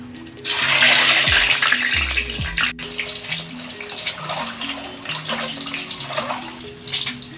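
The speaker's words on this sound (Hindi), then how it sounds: "ऑयल हमारा गर्म हो चुका है। अब हम इसमें अंडे डालेंगे।" Eggs dropped into hot oil for a desi egg and potato dish, giving a loud burst of hissing sizzle that settles into steady crackling frying, with no talk.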